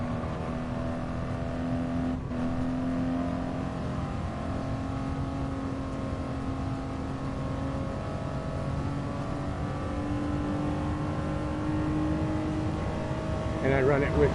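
A race car engine in a practice session at Big Willow drones steadily and rises in pitch as it accelerates on the gas, heard from inside the car with a constant loud roar and a brief click.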